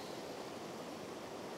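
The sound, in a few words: stream flowing over stones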